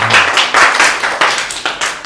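Hand clapping, a rapid run of sharp claps in an uneven rhythm, close and loud with no talking.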